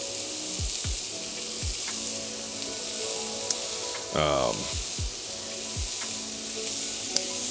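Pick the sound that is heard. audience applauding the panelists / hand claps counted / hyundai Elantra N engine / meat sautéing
meat sautéing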